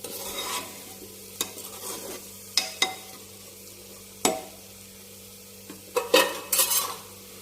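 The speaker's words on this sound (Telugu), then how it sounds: "కొంచెం ధనియాల పౌడర్, ఇవన్నీ కలిసేలా కలుపుకుందాం." Potato and eggplant curry with coriander powder being stirred in a pan, soft sizzling under a series of sharp spoon scrapes and clinks against the metal, irregular and close, with no voices.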